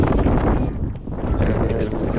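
Strong typhoon wind roars in a steady, loud, broadband rush with gust swells and microphone buffeting, easing briefly near the middle before surging again; no voices.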